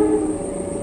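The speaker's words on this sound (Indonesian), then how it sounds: "Kereta api Kuta Jaya Selatan persiapan melintas langsung di halte Lewi Goong." A Kuta Jaya Selatan passenger train hauled by two locomotives passing straight through a small halt on the southern line, heard as a brief, loud, close rumbling roar with a steady tonal whine on top.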